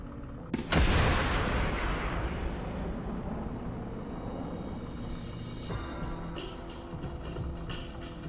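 An ATGM launches in War Thunder with a sharp, loud blast near the start, followed by a long roaring rush that slowly fades, then softer clicks and rumbles further on.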